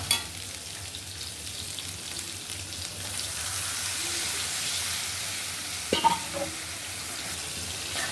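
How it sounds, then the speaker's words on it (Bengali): Ginger-garlic paste with turmeric, chili powder and salt frying in a pan, a steady hissing sizzle that swells and holds, broken by a sharp clatter of a utensil against the pan near the end. "এখন আমি মশলাটাকে ভালো করে কষিয়ে নিব।"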